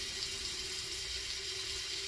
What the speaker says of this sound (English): this girl running this water